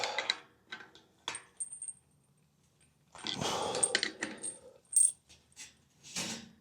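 Metal chain and shackle being connected and hooked into a loop on a DIY horse arena drag, heard as close, sharp metallic clinks and jangles in bursts with quiet gaps between.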